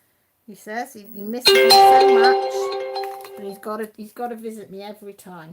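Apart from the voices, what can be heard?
mobile phone notification ding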